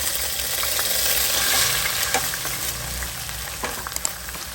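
Onions sauté for homemade sausage, a loud continuous close-up sizzle with a low rumble underneath and a few sharp scrapes of the spoon near the end, no talking.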